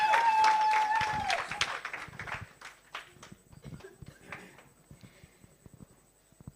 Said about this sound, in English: put your hands together for Felicity Mudis. Keep on clapping.